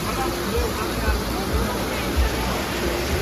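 A mountain waterfall in Murree rushes with a constant broadband roar, loud and close, while a faint crowd murmur blends into the background.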